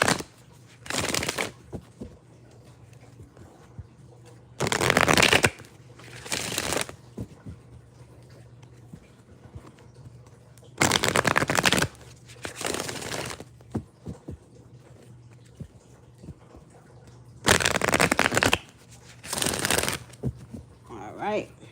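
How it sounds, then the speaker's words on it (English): A deck of tarot cards being shuffled, several sharp riffling bursts of a second or so each, close and loud, separated by quieter gaps where a person talks. "Let me shuffle my cards."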